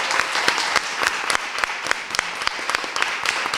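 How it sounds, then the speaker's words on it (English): An audience at a small business candidate forum claps for the candidates, a steady bed of many hands with sharp individual claps standing out at a quick, uneven rhythm, fairly close and alone without talk. "How about a round of applause for our candidates?"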